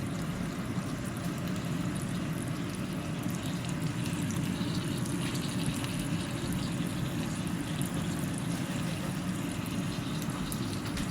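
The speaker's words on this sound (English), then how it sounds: "we will add a little bit of water inside of it" Drinking water poured into a pot of Hongshao braised pork, a steady continuous splashing and trickling that holds at an even, close level throughout.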